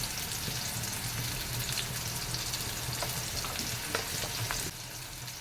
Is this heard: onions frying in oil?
yes